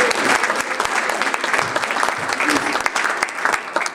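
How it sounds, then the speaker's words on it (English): Applause from a crowd at a closing ceremony for a volunteer GiveCamp coding event, a dense steady clapping that fills the room for the whole stretch without breaking. "can I get a huge round of applause for my team"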